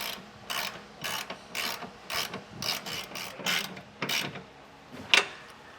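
Ratchet snugging 16 mm bolts on Westin nerf bars on a 2013 Ram 2500, a series of short, sharp clicking bursts in an irregular rhythm, close and fairly loud, with no talk.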